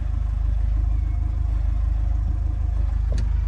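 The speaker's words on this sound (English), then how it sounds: "The change in the engine noise, that's the thrust bearing on the clutch." A van engine with a worn clutch thrust bearing runs at a steady, loud idle, a constant low drone with one faint tick near the end and no speech over it.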